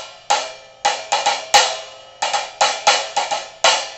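Quick strikes on the top ZXT Trashformer of a cymbal stack, about a dozen short, trashy hits in a loose groove pattern, each choking off fast, close and without talk.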